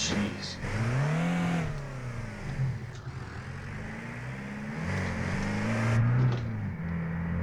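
Delivery van engine pulling hard under turbo boost, a loud rising and falling drone that swells twice as it accelerates, close and continuous throughout.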